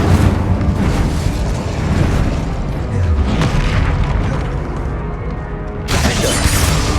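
Fiery spell blasts from Hogwarts Legacy combat, a steady roar of booming, crackling bursts across the whole stretch with a brief dip before another loud burst near the end.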